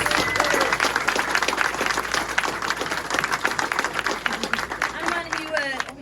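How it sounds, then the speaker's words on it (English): Sustained applause from a crowd at a speedway press conference, dense clapping throughout with some cheering and whistles mixed in, fairly loud and close. "Let's hear it for Connor Bailey, folks."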